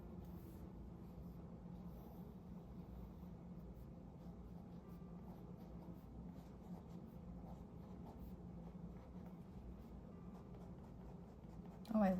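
Fountain pen fitted with a Kakimori nib writes ink swatches on paper, making a continuous soft scratching drag that runs steadily throughout over a low background hum, ending with a brief louder scrape.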